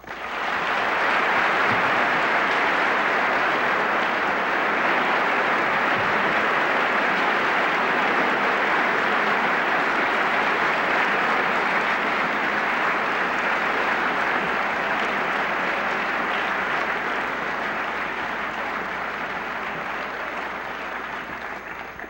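Sustained, dense audience applause greets economist Milton Friedman at a lecture on the welfare state, a steady broadband roar of many hands clapping that holds for over twenty seconds and fades slightly at the end, with no talking.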